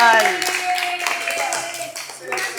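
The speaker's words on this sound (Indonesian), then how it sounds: "Betul, satu tepuk tangan." Children at an Iqro Quran class quiz clap briefly under loud chatter and speaking voices, with a few sharp hand claps standing out.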